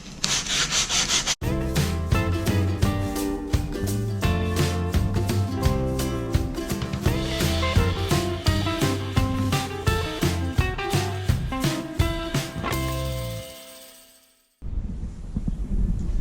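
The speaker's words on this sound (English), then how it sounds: "I'm just going to take my sandpaper" A wooden canvas frame is hand-sanded with sandpaper in quick, rhythmic back-and-forth strokes, close and fairly loud, stopping briefly near the end before resuming.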